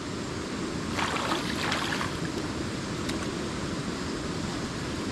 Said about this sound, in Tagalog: ito na po ang diligo po tayo sa malakas na tubig